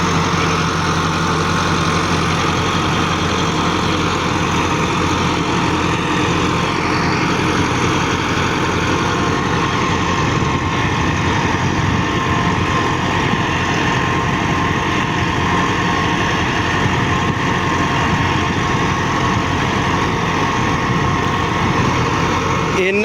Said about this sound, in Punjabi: ਇੰਨਾ ਜ਼ਬਰਦਸਤ ਟਰੈਕਟਰ ਆ ਦੋਸਤੋ ਇਹ 375 ਜਿਹੜਾ ਜੀ